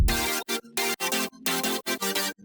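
Synth chords layered with an arpeggiator in a drum and bass production, played loud as choppy rhythmic stabs with short gaps between bursts, no voices.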